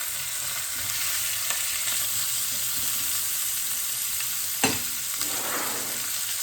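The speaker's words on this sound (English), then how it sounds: "we're just kind of getting a good sear on our chicken, both sides of our chicken" Chicken sears in a hot pan for a garlic chicken dish, giving a steady, close sizzle and frying hiss throughout, with one sharp brief clatter of utensil against pan near the end.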